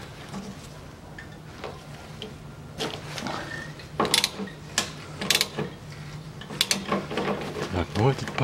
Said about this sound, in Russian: Откручиваю два болта на 10.